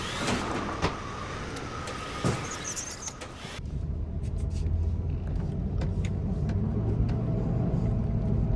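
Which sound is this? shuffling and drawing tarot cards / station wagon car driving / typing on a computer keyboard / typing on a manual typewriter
station wagon car driving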